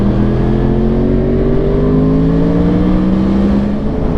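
A Yamaha R1 motorcycle on a race track gives a loud, close engine tone that rises steadily in pitch as it accelerates, with continuous wind and road rush underneath.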